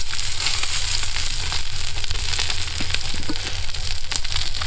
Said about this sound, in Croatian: Poveđe ću malo gušćija jaja. I stavim poklopac i pustim tako 2 minute da se peče.